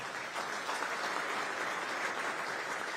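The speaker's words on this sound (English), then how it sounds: "Keep the applause going for National Technologies," Continuous clapping from a large audience at a city innovation and technology event, even and unbroken throughout, with no talking heard over it.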